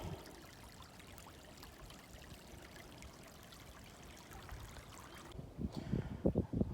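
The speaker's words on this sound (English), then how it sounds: "I love the sound of the water as it trickles over the rocks." Water from a woodland stream trickles over rocks in a steady, soft babble, with brief louder splashes or knocks near the end.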